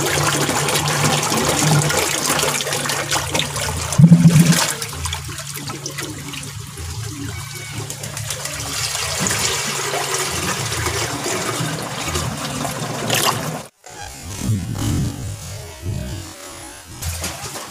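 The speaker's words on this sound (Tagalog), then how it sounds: "Dagdagan ko na po ng tubig yung pan natin." Water pours steadily into a backyard koi pond during a water change, a continuous loud rushing and splashing flow that briefly cuts out near the end, with no talk.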